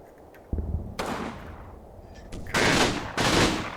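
Artillery and gunfire in the World War II game Combat Mission Final Blitzkrieg: several sharp, loud blasts in irregular succession, with two heavy booming bursts near the end.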